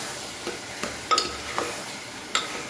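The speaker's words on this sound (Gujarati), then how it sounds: "સરસ અને પહેલાં તેલમાં મિક્સ કરી લઈએ. થોડીક વાર ચવા દઈએ." Ingredients fry in hot oil over a full gas flame with a soft, continuous sizzle, broken by a handful of light stirring clicks and scrapes, quiet and close, with no voices.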